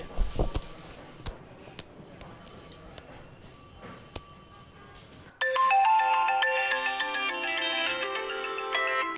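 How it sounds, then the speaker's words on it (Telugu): A few sharp knocks and clicks over quiet background, then a melodic ringtone starts and keeps playing loudly and steadily. "సార్ రింగ్ అవుతోంది సార్"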